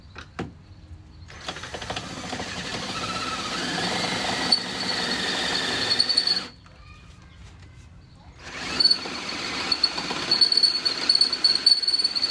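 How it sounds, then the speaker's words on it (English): A loud, continuous whine with grinding overtones as an electric drill with a 1/2-inch bit drills a hole in a metal track bar bracket, in two long stretches broken by a short quieter pause. "time to drill out that hole"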